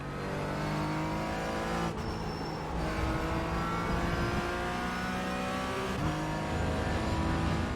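Race car engine in the iRacing sim, loud and continuous with steady harmonic drone, pitch rising and dropping through gear changes, with brief dips near two and six seconds, other cars audible around it.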